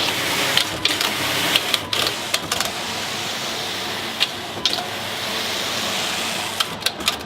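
A knitting machine works a guernsey sleeve in navy and other yarns, a steady mechanical whir punctuated by repeated sharp clacks and clicks of the carriage, close and moderately loud with no speech.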